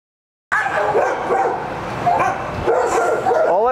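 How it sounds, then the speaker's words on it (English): A shelter dog brought in during basic obedience training barks and yips loudly and close by, a busy run of repeated barks with whimpers that starts abruptly and carries on without pause. "I'm going to bring in another dog,"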